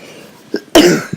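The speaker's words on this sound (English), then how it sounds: "Bad cough, right?" A single loud, close cough bursts out after a short faint sound, followed by a brief small catch of breath.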